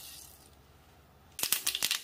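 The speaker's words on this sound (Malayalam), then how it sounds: "ചൂടായ വെളിച്ചെണ്ണയിലേക്ക് കടുക് ചേർക്കാം" Mustard seeds dropped into hot coconut oil: near silence, then a sudden burst of sharp crackling and spattering pops that keeps going in quick bursts.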